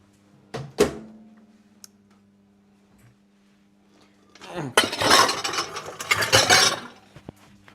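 A stand mixer is handled and set up in a home kitchen, with a couple of isolated clunks, a lingering hum, then a burst of rattling, clicking mechanical handling noise up close.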